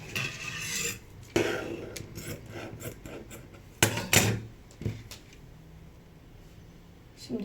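Fabric being cut with scissors while sewing, a series of short close snips and rustles with pauses between them and no talking.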